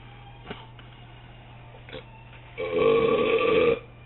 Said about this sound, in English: Me belching all through this fucking show is a bad thing.